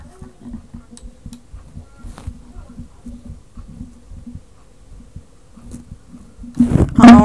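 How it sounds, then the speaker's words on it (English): A person's heartbeat picked up close to a microphone comes through as soft, muffled low thumps repeating steadily for several seconds, ending in a burst of louder rustling noise. "I'll give you one more chance to hear my heartbeat if you could."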